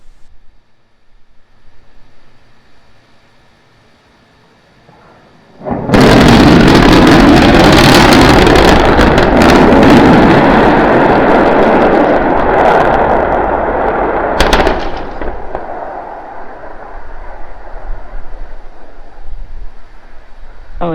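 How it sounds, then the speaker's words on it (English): SpaceX Starship rocket engines restart for the landing burn on the second test flight: an abrupt, very loud roar begins a few seconds in, holds for about nine seconds, then eases into a quieter, lingering rumble. "We're preparing to restart 2 engines, flip the vehicle vertical, then transition to 1 engine for the landing burn."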